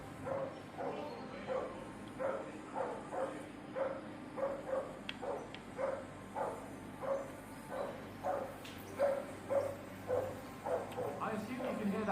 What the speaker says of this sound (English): I assume you can hear that damn dog.